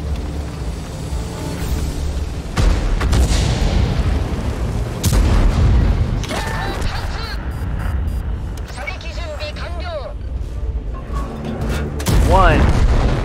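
Artillery fire and explosions in World of Tanks, several deep booms and sharp blasts spread through the clip, loud and close, with someone talking over them.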